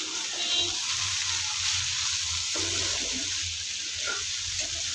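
Banana stem with prawns frying in a pan, giving a steady close hiss with a watery, bubbling texture and occasional soft stirring scrapes, no voices.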